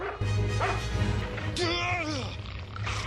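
A dog yips and whines excitedly, its barks mixed with scuffling and a nearby voice, close and fairly loud.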